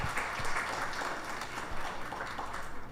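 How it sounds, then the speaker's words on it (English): Congregation applauding at a Krishna Mandir Sunday service, a dense, fairly loud burst of clapping that holds steady for a few seconds before starting to thin out. "So let's give everyone a round of applause."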